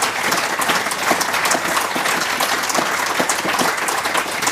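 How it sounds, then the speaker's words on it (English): Steady, dense applause from the audience at a football club fans' forum, a continuous wash of many hands clapping at even loudness throughout, with no talk over it. "another big round of applause for our glamorous panel"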